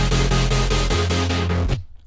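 Layered synth chords processed with distortion, bit crusher and EQ, played loud in steady pulsing repeats over a sustained bass, then cutting off sharply near the end into a brief decaying tail.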